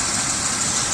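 A 2006 Chevy Uplander van's engine idles smoothly in a short, steady run of even mechanical hum heard close up, with no voices over it.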